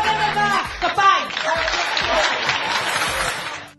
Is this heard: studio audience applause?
yes